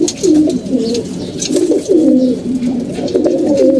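Domestic pet pigeons kept at a home loft coo close by in repeated, rolling throaty phrases, several overlapping calls sounding loud and clear with no voices present.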